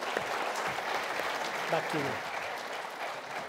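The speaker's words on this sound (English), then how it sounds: "A big round of applause for both of them." Audience applause at a TechHR 2019 conference session fills the room steadily throughout, with a brief spoken phrase heard over the clapping.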